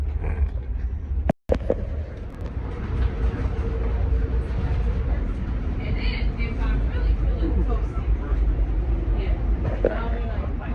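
An Amtrak Auto Train rumbles steadily along the rails with a deep continuous roar and faint clatter, while people talk over it. A brief dropout interrupts near the start.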